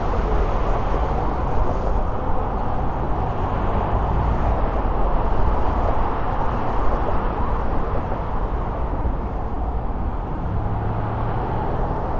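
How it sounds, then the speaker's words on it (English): Dense, loud city street traffic near the Brooklyn Bridge in New York, a continuous roar of many cars with no gaps and no voices. "Very loud and noisy, a lot of cars, as you can see."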